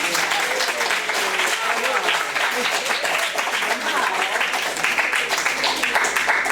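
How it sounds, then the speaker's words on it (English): An audience applauds the messengers at an interactive board game session, dense steady clapping filling the whole stretch at an even level, with a few voices mixed in. "round of applause for our messengers"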